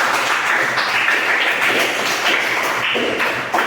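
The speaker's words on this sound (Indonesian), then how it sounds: "Tepuk tangan dulu untuk kita semua." A classroom of students claps together during a mathematics lesson, a steady, moderately loud patter of many hands that continues throughout and stops abruptly at the end.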